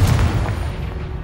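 Confringo fire-blast spell cast in the Hogwarts Legacy video game, a loud booming burst with dense low rumble that sustains for about a second without fading.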